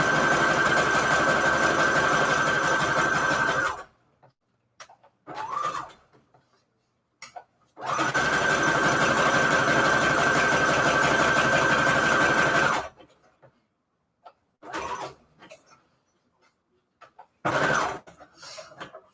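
A sewing machine stitching zigzag and straight stitch on paper scraps: two long loud runs of steady motor whirring, each several seconds, with quieter stretches of short handling noises and brief sounds between them.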